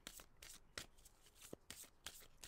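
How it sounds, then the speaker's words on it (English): A deck of tarot cards shuffled by hand, quiet close-up bursts of riffling and sliding in a loose repeating rhythm, about six or seven flurries with brief pauses between. "I want to shuffle one more deck"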